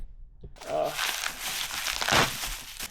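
Packaging crinkles and crunches while a Vibrant muffler is unboxed, a close, loud rustle of paper or plastic that starts after a brief quiet moment and keeps going with a sharper crackle near the end.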